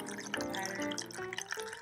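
Water trickles and drips softly in a small tabletop Tranquil Buddha LED fountain, a faint, continuous bubbling with occasional sharper drips.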